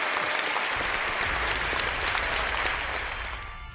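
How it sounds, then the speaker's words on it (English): A short burst of crowd applause on a sports talk show, loud and dense from the start and holding steady for nearly four seconds before fading slightly. "can we get a round of applause over there one time?"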